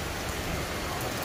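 Steady rain falls outdoors, a dense, even hiss of drops across the whole short stretch with no pauses or voices.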